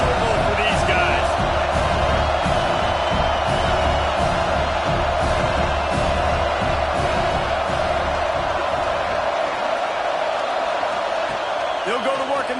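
Stadium crowd noise in a college football video game featuring Arizona against Notre Dame, a steady, dense roar of cheering fans with thumping bursts, continuous throughout and fading slightly toward the end.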